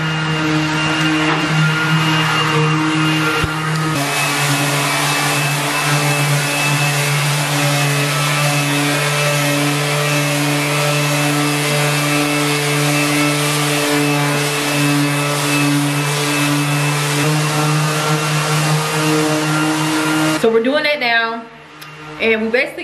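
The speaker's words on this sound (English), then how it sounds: "we are sanding the drywall mud, and we have like an electric sander, so that's what we're doing right now" Electric sander running on drywall mud during a bedroom renovation, a steady loud motor whine with a strong constant hum that holds for about twenty seconds before cutting off, as a person talks over it.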